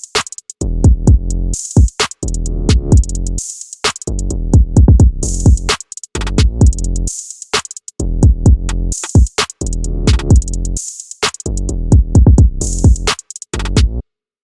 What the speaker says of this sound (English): The drums and the 808 together, they sound like this.